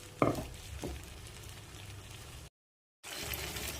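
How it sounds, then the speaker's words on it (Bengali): Soft, steady sizzling of a spice mix with ginger frying in a pan, with a brief clatter near the start and a short silent gap partway through. "এই মশলাটা এখন ভাজা ভাজা হয়ে আসছে"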